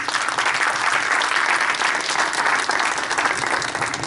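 An audience at an Urdu literary evening breaks into sustained applause, a dense, even roar of many hands clapping that stops abruptly at the end.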